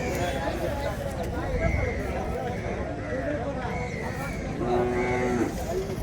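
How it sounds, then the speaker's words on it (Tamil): Calves mooing at a native cattle market in Madrapalli, several drawn-out low calls rising over a busy crowd of livestock and chatter, with a clearer, longer moo near the end. "இந்த ஏரியாவில் இருக்கிறது எல்லாமே கண்ணுக்குட்டி தாங்க"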